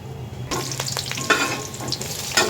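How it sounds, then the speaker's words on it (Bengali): Onions hit hot oil in a cooking pot and start frying, a loud close sizzle that flares up at once, with stirring scrapes over the crackle. "তেল গরম হয়ে গেছে, পেঁয়াজ দিয়ে দিলাম।"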